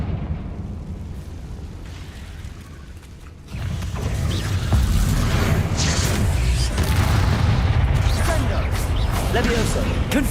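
Confringo blasting-spell explosions in Hogwarts Legacy burst out in rumbling, booming waves with crackling debris, quieter at first and then swelling louder, while a voice speaks over the chaos.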